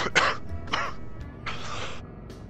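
A person coughs and clears their throat in a few harsh, close bursts: two quick ones and then a longer rasping cough, with no speech.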